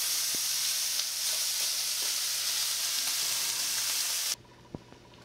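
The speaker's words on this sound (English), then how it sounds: "we're going to take the bacon, and we're going to cook it slightly" Bacon frying in a hot pan, a loud, steady close sizzle with faint stirring clicks that cuts off abruptly, leaving a couple of soft taps.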